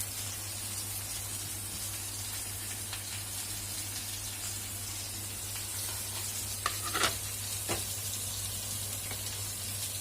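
Fish pieces added to a boiling sour fish curry broth, giving a constant low bubbling and sizzling simmer with a steady hum underneath and a few brief clinks of a utensil partway through.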